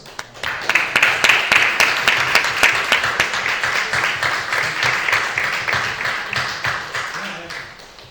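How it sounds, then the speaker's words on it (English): A panel audience breaks into loud, sustained applause for a group of directors, dense claps building quickly and holding steady before tapering off near the end. "Let's give a round of applause to these fantastic directors."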